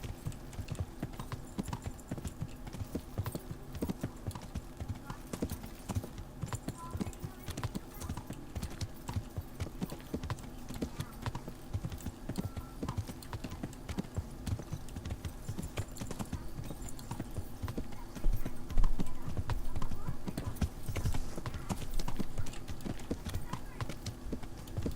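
Horse hooves clip-clop in a steady trotting rhythm as a rider travels on horseback in the video game Kingdom Come Deliverance, moderately close, with a faint voice now and then underneath.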